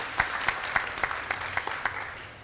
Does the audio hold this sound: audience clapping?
yes